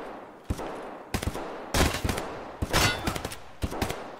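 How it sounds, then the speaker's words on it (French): Gunfire from an enemy in a video game cracks out as a series of sharp shots and short bursts, spaced irregularly across a few seconds at moderate loudness. "Il nous tire dessus."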